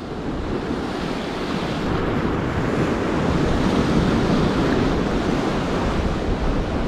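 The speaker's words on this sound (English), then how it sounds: "Just that bit of head-on wind is a bit of a pain." Wind buffeting a microphone by the sea while lure fishing for bass, a loud rumbling roar mixed with breaking surf, steady throughout and swelling slightly midway, with no voices.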